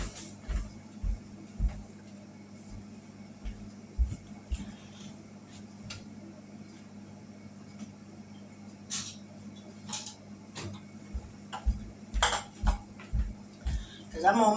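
Metal pans and cookware clank and knock in short, irregular bursts as a pan is pulled out from a low kitchen cabinet, close and fairly loud over steady room hum.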